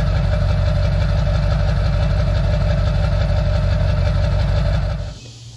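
A diesel truck idles through its exhaust stacks with a loud, deep, steady rumble and a knocking edge close by, then cuts off abruptly near the end, leaving quieter background noise.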